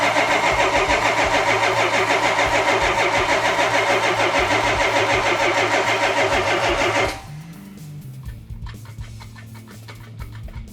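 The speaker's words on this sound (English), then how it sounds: "Crank it over, let's see if we can get some fuel up in here" A van's engine cranks over repeatedly in a loud, rapid rhythmic whir for about seven seconds, then stops abruptly, leaving quieter clicks and faint background sounds.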